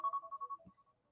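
A mobile phone ringtone plays a short run of bright repeating electronic beeps in a quick rhythm, then fades out with a brief low thump, heard clearly in an otherwise quiet room.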